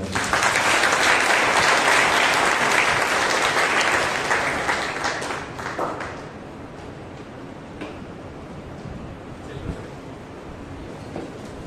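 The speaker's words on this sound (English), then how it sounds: "Let us give a mighty clap to God." A congregation at a Monday prayer meeting clapping together, loud and dense at first, then thinning to scattered claps and murmuring voices.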